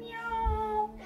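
A voice imitates a cat with a single drawn-out meow, close and clear, during a kids' yoga session.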